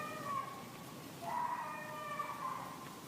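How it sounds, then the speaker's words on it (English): A cat meows in a recording made deep in the woods, giving a few drawn-out, wavering cries over a faint, hissy outdoor background. "That's a cat."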